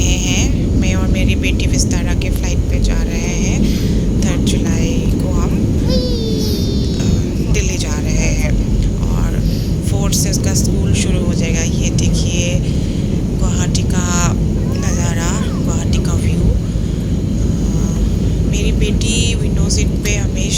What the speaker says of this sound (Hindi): और अब हम गुवाहाटी से टेक ऑफ कर रहे हैं।